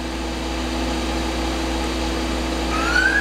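The spindle of an Okuma MAB-80H 5-axis horizontal machining center runs at 2000 RPM, a steady close mechanical hum with constant tonal lines, and a rising whine enters near the end as the speed climbs.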